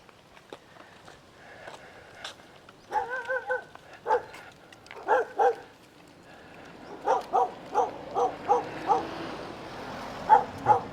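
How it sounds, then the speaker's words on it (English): A dog behind a suburban backyard fence barks and yips in repeated short bursts, moderately close, with whimpering sounds between barks and quiet gaps at the start. "Dog's a bit loud."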